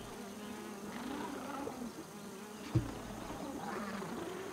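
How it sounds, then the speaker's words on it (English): In the survival video game Grounded, a mosquito hums with a persistent whining insect drone that keeps on throughout, quiet and steady, with a brief dull thump partway through. "Harbinger of disease and death. That is a mosquito!"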